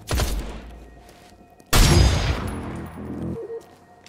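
Two loud bursts of weapon fire in Industria, a short opening blast then a heavier boom that rings and decays for over a second, with faint clicks after.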